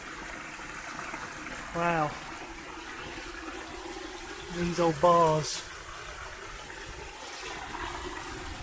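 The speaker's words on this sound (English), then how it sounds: "you can see there the rushing water" Water rushing through a dark old Victorian brick culvert tunnel in Northamptonshire, a steady broad wash filling the space, with a person speaking briefly over it near the start and middle.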